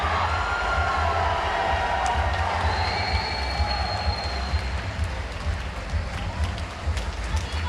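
Supporters of Team Legacy cheer at a men's F Division final, a loud, steady wash of crowd noise with clapping and shouts, plus a low rumble underneath.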